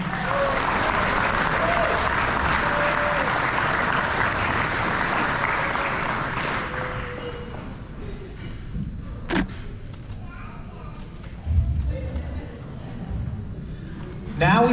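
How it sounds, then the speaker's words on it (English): A banquet hall audience at the Thunder Road champions' banquet in the Barre Auditorium claps for a race car driver, dense sustained applause that fades after several seconds into scattered thumps and a voice speaking. "give a more than deserved round of applause"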